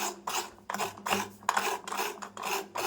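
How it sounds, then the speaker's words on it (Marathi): Cucumber being grated by hand for a traditional Malvani dish, a series of rhythmic rasping strokes with short pauses between them, close and fairly loud, with no talking. "मी पूर्ण वाटी किसून घेणार आहे"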